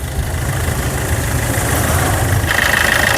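A 2017 Maruti Ciaz VDi diesel engine idles with a loud, steady low rumble and a dense mechanical clatter, heard up close under the open bonnet.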